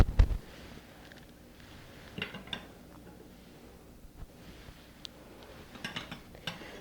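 A spoon stirs pasta with roasted vegetables in a pot, giving sparse light clinks and scrapes against metal, quiet and close, with no talking.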